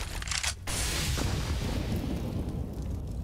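A grenade detonates in a CS:GO match between Natus Vincere and FaZe, a sharp loud blast followed by a sustained rumbling boom that slowly decays.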